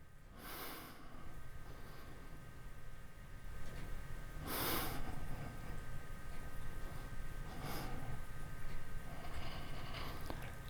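Three sharp breaths, each a short burst of air out and in, stand out over a low, steady background during an exercise routine, spaced a few seconds apart.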